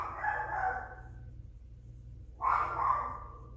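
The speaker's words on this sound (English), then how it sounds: "Y'all, my damn dog over here barking." A dog barks from out a window, giving two separate loud bursts with a quiet pause between them over a low steady background hum.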